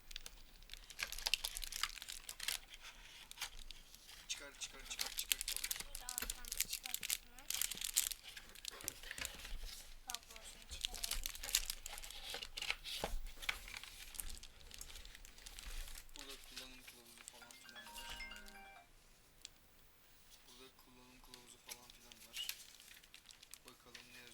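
Plastic and cardboard packaging crinkle, rustle and tear as a SteelSeries Apex 3 TKL keyboard is unboxed, in irregular bursts, with people talking over and between the sounds.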